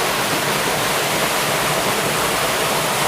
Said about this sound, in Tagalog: Grabe, ang ganda ng falls.